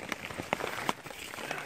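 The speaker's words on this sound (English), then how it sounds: "Listen to the rain." Rain falls on a tent during wild camping in a forest, a soft, steady patter with scattered louder drops landing close by, fairly quiet overall.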